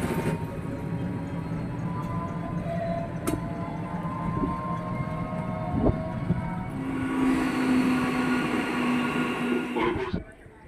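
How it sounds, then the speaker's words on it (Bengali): A train rolls out of a railway station in Krishnanagar, a steady rumbling roar with a rising tonal whine later, heard close amid platform noise before cutting off. "অবশেষে স্টেশনে এসে গেছি, কিন্তু চোখের সামনে দিয়ে ট্রেনটা বেরিয়ে গেছে।"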